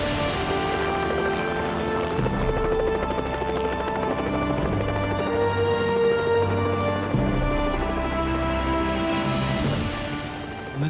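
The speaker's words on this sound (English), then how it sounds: "Moments later, I heard that helicopter approach." Helicopter drawing nearer over Alpine mountains, a steady thrumming rotor drone with a low pulsing beat that holds throughout, fairly distant and moderate in level.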